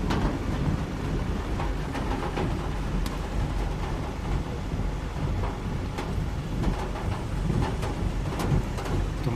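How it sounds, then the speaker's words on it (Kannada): Steady rain of the season's first April afternoon shower falls in Tumkur, a dense, constant wash of noise with scattered heavier drops, moderately loud and without voices. "ತುಮಕೂರಿನಲ್ಲಿ ಮೊದಲ ಮಳೆ ಏಪ್ರಿಲ್ ತಿಂಗಳಲ್ಲಿ ಬರುತ್ತಿದೆ"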